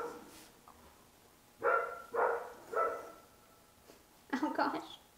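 A dog gives a string of sharp barks in bursts: two near the start, three evenly spaced in the middle, then a louder cluster at the end, moderately close against a quiet background.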